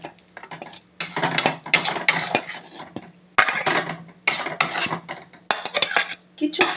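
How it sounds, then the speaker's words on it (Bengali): Spiced chickpea kachori filling being scraped from a pan into a separate bowl, with bursts of metal spoon scraping and clinking against cookware, loud and close, in several distinct passes separated by short pauses, with no talking. "এবারে পুরটা আমি বাটির মধ্যে ঢেলে নিচ্ছি"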